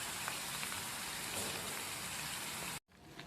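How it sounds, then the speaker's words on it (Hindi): Chicken frying with garlic ginger paste hisses in a steady, dense sizzle like rain, continuous and even before cutting off abruptly near the end. "इसके अंदर 1 खाने का चमचा भर के लहसुन अदरक का डाल देंगे और इसको ज़रा सा हम फ्राई करेंगे"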